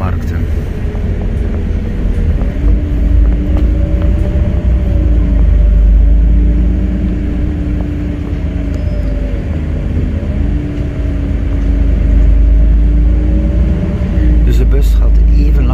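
A Connexxion city bus on route 10 toward Hulst drives with a loud, continuous low engine rumble and a steady drone from inside the cabin, while a voice talks over it.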